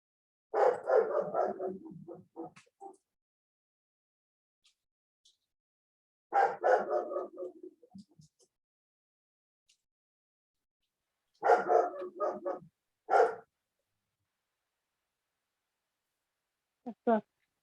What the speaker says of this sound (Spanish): Mi perro está por ahí diciéndome que quiere participar.